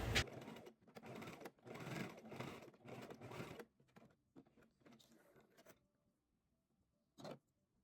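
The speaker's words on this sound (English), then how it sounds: "I do it on both sides just so it doesn't move while I'm sewing all the way around." A sewing machine stitches around a fabric wallet pouch in several bursts of steady whirring, each lasting a second or so with brief pauses between, then quiet with one short final run.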